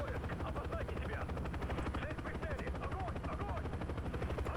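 A steady helicopter rotor drone from Call of Duty: Black Ops, with chirpy sound effects and faint bursts layered over a constant mechanical hum.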